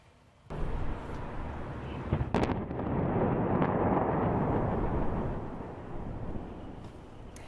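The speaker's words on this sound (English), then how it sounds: "Dozens of rockets you're seeing right now being fired into Israel after an airstrike kills an Islamic jihadist leader in Gaza" Rockets launched from Gaza toward Israel amid airstrikes, a sudden loud rumbling roar that swells and holds for several seconds with a few sharp cracks near the start, then slowly tapers off with no talking.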